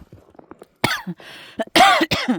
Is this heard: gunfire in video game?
no